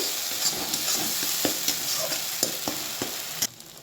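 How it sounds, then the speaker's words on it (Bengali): Spice paste is stirred in hot oil in a pan for a katla fish curry, with a continuous sizzle broken by regular scraping strokes of a spoon. It cuts off abruptly near the end. "এই পেস্টটাকে একটু ভালো করে তেলের সঙ্গে নাড়াচাড়া করে নেব"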